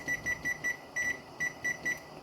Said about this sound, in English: then I'm going to set my timer for 15 minutes